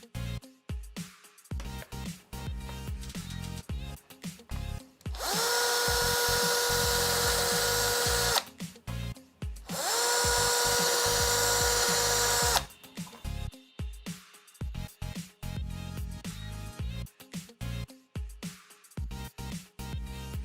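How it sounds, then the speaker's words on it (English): A power drill bores the final holes into a wall for fitting a roller blind, two long sustained whining bursts of several seconds each, separated by quieter handling noises. "we're ready to drill the final 2 holes."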